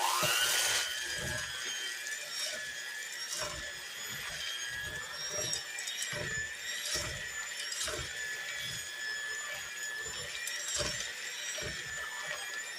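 An electric mixer whirs steadily through chocolate chip cookie dough, a continuous high motor whine with repeated rhythmic thumps as the beaters churn the wet mixture.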